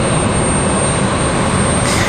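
A Delta airliner at Raleigh Durham airport during a stormy day gives a loud, steady broadband engine roar, continuous and close, with no talking.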